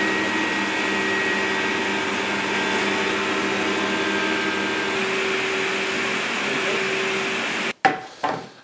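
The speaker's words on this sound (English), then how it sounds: "You can still thickness it, provided you've got a good reference edge" A thickness planer machines a narrow 18 mm board in a workshop, giving a loud, steady whirring drone that holds for nearly eight seconds before stopping abruptly, followed by a couple of short knocks.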